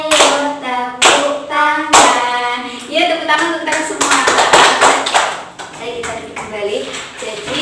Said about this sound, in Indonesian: ayo tepuk tangan. Ya, tepuk tangan untuk kita semua